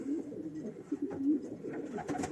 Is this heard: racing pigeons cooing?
yes